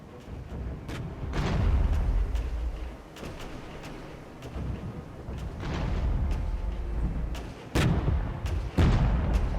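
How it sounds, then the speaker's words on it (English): Mortar strike explosions in the wartime strategy game Regiments, a string of heavy booms and sharp blasts rolling across several seconds, some overlapping, with rumbling decay between hits. "Savage mortar strike."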